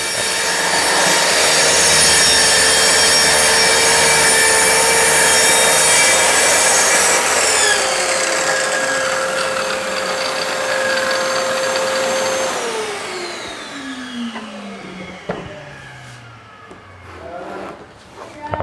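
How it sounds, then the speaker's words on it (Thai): A JEMAR track saw cuts wood along a long guide rail while a vacuum cleaner runs alongside. The loud, steady motor whine holds near and constant, then winds down with a falling pitch, leaving a few clunks and rustles at the end. "วันนี้ผมก็จะใช้เครื่องดูดฝุ่นไปพร้อมกันเลยนะครับ"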